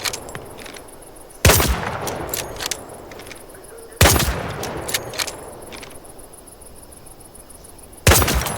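Three sharp, loud bolt-action rifle shots ring out in Hell Let Loose: Vietnam, evenly spaced several seconds apart, over a steady background of insect and cricket chirring.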